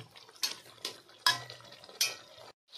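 Fried snakehead fish curry being stirred in a pot, four sharp metallic scrapes and clanks of a spoon against the pot at uneven intervals, close and fairly loud, then a brief silence.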